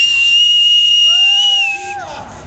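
Someone whistles loudly through their fingers outdoors, a piercing sustained tone that slides downward and trails off, with background noise underneath.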